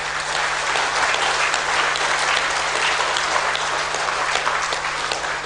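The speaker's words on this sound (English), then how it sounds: "one more big round of applause" Audience at a Karnataka Bank founders' day ceremony gives a big round of applause, with dense, steady clapping that carries at even loudness from start to finish.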